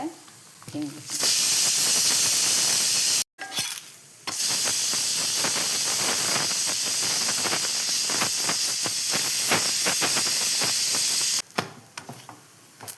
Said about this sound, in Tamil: இப்போ நம்ம ரொட்டி சுட்டு எடுத்துக்கலாம்.